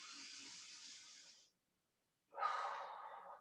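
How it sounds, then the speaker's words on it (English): Two long yoga breaths drawn slowly through the nose and mouth, a soft airy hiss lasting over a second, then a short pause of silence and a second, stronger inhale rising close to the microphone. "One more deep inhale."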